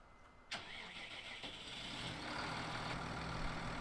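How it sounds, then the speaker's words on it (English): Tractor engine in Farming Simulator cranking over with a sharp start, then settling into a steady, loud low rumble that builds slightly, heard alone without talk. "the engine on this tractor is loud"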